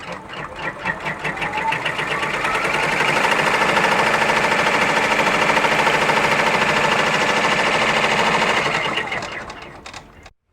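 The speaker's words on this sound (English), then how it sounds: "let's start our tack down stitch" Sewing machine stitching an appliqué tack-down stitch through layered fabric, a fast continuous mechanical whir that ramps up, holds steady and loud for several seconds, then winds down and stops.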